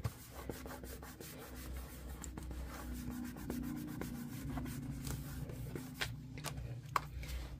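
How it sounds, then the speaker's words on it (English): Steady, close rubbing on a laminated notebook page as air bubbles are pressed out, a continuous dry swishing friction with small scratchy accents and no speech. "I'm just rubbing away, getting out any of the air that's in there."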